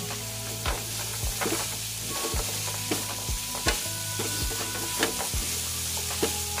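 Cashew nuts and carrots sizzle in a hot pan while a utensil stirs and scrapes, giving steady frying hiss with regular knocks against the pan, close and prominent.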